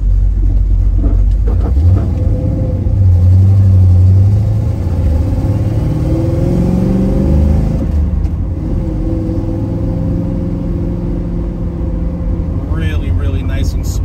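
A 1967 Pontiac Firebird with a Hurst 4-speed drives along, its engine rumbling loudly with rising and falling revs through the gear changes while a voice talks over it.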